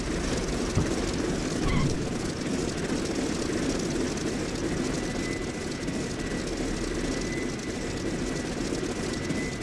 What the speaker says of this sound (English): Alright, let's start this engine up.